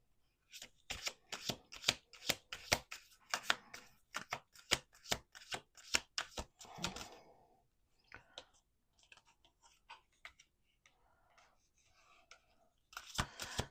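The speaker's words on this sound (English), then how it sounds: "Let's do 2 more shuffles." Playing cards shuffled by hand in repeated quick riffles, a rapid crackling flutter of bursts with short pauses between, close and fairly loud, with quieter handling clicks and rustles in the middle and a final riffle at the end.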